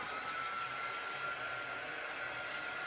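A hair dryer blows steadily to dry chalk paste on a Valentine chalk transfer craft project. It runs close and constant for the whole stretch, with no talk over it.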